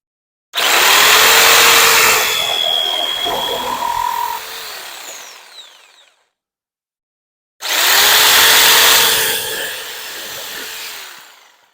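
A power jigsaw cuts, loud and close, in two long bursts. The first runs about five seconds and winds down, and after a silent gap the second starts.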